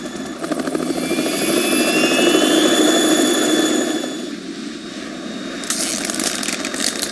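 A Harrier jet hovers in the video game Metal Gear Solid 2, a loud roaring engine whine with a high turbine tone that swells, then eases and fades toward the end, with no voices.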